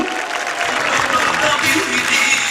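Crowd applause at a Turkish CHP political rally, a dense, steady wash of clapping heard fairly loud and close throughout the brief moment.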